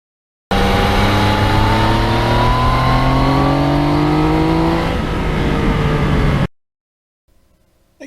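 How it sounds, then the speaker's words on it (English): A stock-muffler Yamaha MT-09 motorcycle engine (2020) revs up loudly and steadily with a rising, rumbling tone for about six seconds, then cuts off abruptly into near silence. "I have the stock muffler on a bike and it's got a nice rumble, but not loud"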